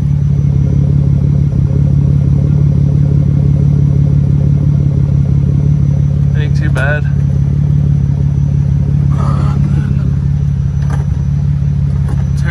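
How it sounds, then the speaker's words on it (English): A 2002 Ford Ranger engine idles close by in a steady, low rumble, with a slight misfire audible at the tailpipe, while someone speaks briefly over it. "Kind of hear this thing missing a little bit from the tailpipe."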